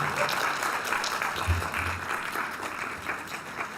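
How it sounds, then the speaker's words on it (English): Graduates applaud at a Texas A&M University at Galveston commencement ceremony: a sustained, dense crowd clapping fills the hall for several seconds at a steady level, with a few low voices mixed into it. "Graduates, would you please rise and applaud those who came here to celebrate with you today?"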